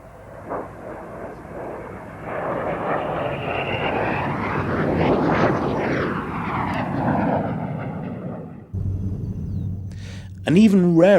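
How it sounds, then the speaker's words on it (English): A Belgian Air Force Alpha Jet makes an air show pass at Mildenhall Air Fete, its jet roar swelling to a loud peak with a sweeping pitch shift before fading, followed by a voice speaking at the end. "Another look at the Alpha jet, also sporting an imaginative colour scheme and also flown by the Belgian Air Force."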